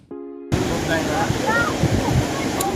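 Foaming sea waves crash against the rampart of Ratnadurg fort in Ratnagiri, a loud continuous roar of surf, opening with a short tone and a voice faintly heard over the water.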